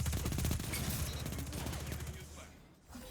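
Rapid SMG gunfire in the video game Destiny 2 during a competitive Trials match, a dense fast burst of shots that is loud at first and thins out toward the end.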